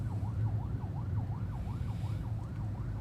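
An ambulance siren of the Indonesian Supreme Court wails in a steady rising-and-falling pattern, repeating about every half second over a low engine rumble, moderately distant and with no talk.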